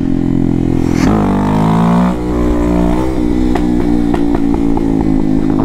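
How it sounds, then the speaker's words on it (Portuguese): A motorcycle engine with an unfiltered exhaust revs loudly up close, its pitch climbing and dropping, then settles into a throbbing idle with sharp popping bursts. "A moto fica forte demais de Dory, louco."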